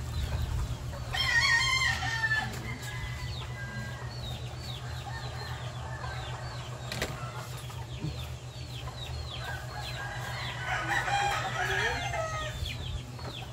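Hens and a rooster cluck and call on a farm, the calls clustered in two bursts over steady low hum and rustling background noise, with no talk.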